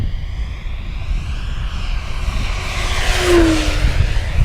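Flightline 1600mm Corsair RC model warbird makes a fast pass on a 6S 6000mAh pack, its electric motor and propeller buzz swelling to a brief tonal peak as it flies by, with wind and outdoor rumble throughout.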